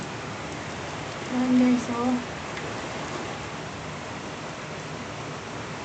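Rain falling in Hong Kong, a steady even wash of drops at a distance, continuous throughout, with a person briefly talking over it near the start.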